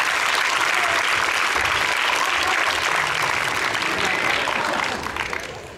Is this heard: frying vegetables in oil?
no